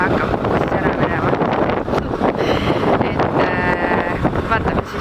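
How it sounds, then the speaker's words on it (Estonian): Strong gusts buffet the microphone outdoors in very windy weather near a bus stop, a loud continuous rumbling roar with fluctuating low-frequency bursts throughout. "Ilm on siis selline väga-väga tuuline."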